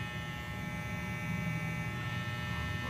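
A Super Taper hair clipper runs after a repair, giving a steady, even electric motor hum that holds close and constant for about three seconds, with no talking.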